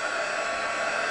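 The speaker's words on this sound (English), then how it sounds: "Let's heat up our embossing gun, our hot gun." An embossing heat gun blows hot air to melt clear embossing powder, a steady, even, close-up whooshing hum with no break over a brief moment.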